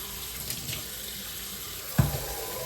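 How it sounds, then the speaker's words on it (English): Water runs from a tap into a bowl to make soapy water for cleaning brushes, a soft steady close gush with a brief louder splash near the end. "I'm gonna do a nice juicy bowl of just soapy water"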